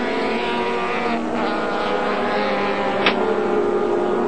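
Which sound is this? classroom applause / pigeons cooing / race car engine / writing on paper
race car engine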